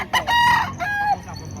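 A rooster crows at a chicken market in Lipa, Batangas, two loud, close, drawn-out calls back to back with no talk over them.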